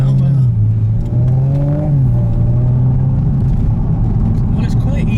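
Audi 3.0 TFSI S4 Quattro driving, its engine a loud steady rumble that rises slightly in pitch, with people talking over it inside the cabin.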